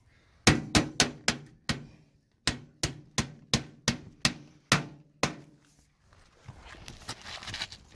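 Trim nails hammered into metal fascia during soffit and fascia installation: about a dozen sharp, loud, ringing hammer strikes at a steady pace, with a brief pause partway through, followed by a softer scraping and rustling.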